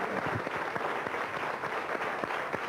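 Television audience applauding an invited guest: a steady, moderately loud wash of many hands clapping throughout, without talk.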